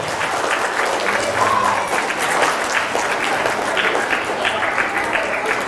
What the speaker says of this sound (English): I wanted you to just give them a nice round of applause for all that they do for you every day.